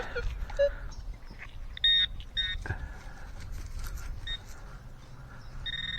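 Metal detector signal tone ringing on a high target reading, heard as several short, fairly quiet electronic beeps and a brief held tone over soft outdoor background rustle.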